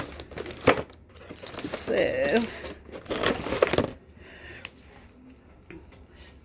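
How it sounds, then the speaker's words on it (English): Crinkly plastic rustling and clattering as items are shuffled about in a small plastic tub, in uneven bursts, with a brief spoken word. "I'm digging. Because I have stuff in this little tub."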